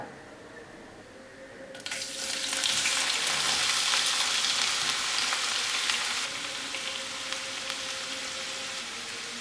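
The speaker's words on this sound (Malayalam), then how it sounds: "നമുക്കിതിലേക്ക് അരിഞ്ഞു വെച്ചിരിക്കുന്ന പാവയ്ക്കയും പച്ചമുളകും ഇടാം." Chopped bitter gourd and green chillies hit hot oil with a sudden loud hiss, then a steady close sizzle that eases slightly after several seconds, no voices.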